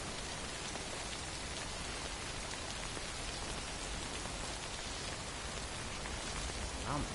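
Steady rain pours in the video game Death Stranding, a dense, even hiss of drops on surfaces that fills the whole stretch without a break, with no voices over it.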